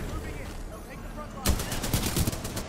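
Rapid bursts of automatic gunfire from Titanfall 2 multiplayer break out abruptly after quieter game ambience, close and loud, with a voice talking underneath.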